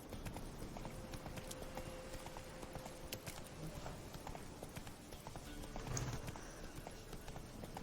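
Roach, a horse in The Witcher 3, gallops with a steady, fast clip-clop of hooves over a constant game ambience, the rhythm running evenly throughout at moderate level.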